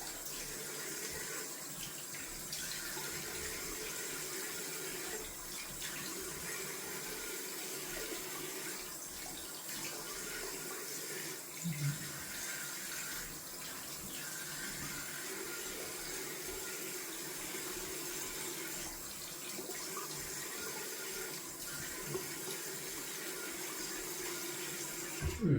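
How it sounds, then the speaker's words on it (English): Cold tap water runs steadily into a sink for rinsing after a wet shave with a Cajun blade, a soft, continuous splashing hiss with no talk, fairly quiet and unchanging throughout. "We're going down for some cold water rinsing."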